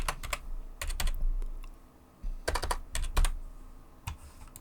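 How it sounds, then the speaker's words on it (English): Quick bursts of typing on a computer keyboard, with clustered key clicks and short pauses between words, close by and fairly quiet. "I type the text I want."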